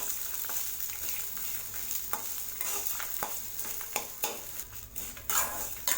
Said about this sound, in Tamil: பாவக்காய் நல்லா வதக்கி விட்டுடலாம்.